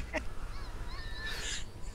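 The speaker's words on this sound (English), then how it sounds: "It's like a fucking wee duck in the background." Faint honking, quacking bird calls sound in the background over a steady low rumble, a short burst near the start and a brighter call toward the end; the speaker likens them to a small duck.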